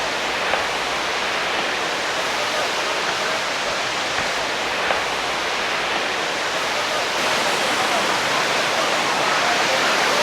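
A waterfall in Jamaica rushes in a constant, loud, dense roar of falling water, unbroken and without voices.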